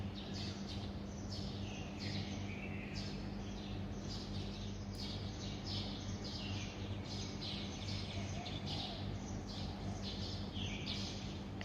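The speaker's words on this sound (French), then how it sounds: "Ça doit faire 1 heure que les oiseaux chantent comme ça" Many small birds chirp and sing in overlapping bursts around 6 am in Chiang Mai, a steady dawn chorus at moderate distance over a constant low hum, with no talking.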